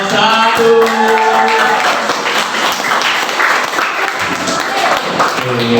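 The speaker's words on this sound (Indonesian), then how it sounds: "kita sambut dengan tepuk tangan, kelompok 1" A classroom of students applauds the winning quiz group in a school lesson, steady dense clapping filling the whole stretch with some voices mixed in.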